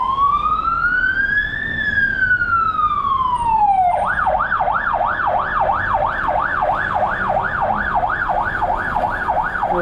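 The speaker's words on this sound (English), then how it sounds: "Let's see if they let the ambulance go." An ambulance siren passes on Avenida Praia Grande in Macau, loud and close. It starts with a slow rising and falling wail, then switches to a rapid warbling yelp over a low street hum.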